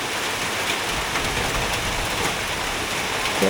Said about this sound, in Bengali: এখন এমন বৃষ্টি শুরু হয়েছে